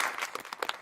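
Audience applause in a small room at a couponing talk, a short burst of scattered hand claps, moderately loud, with no speech over it.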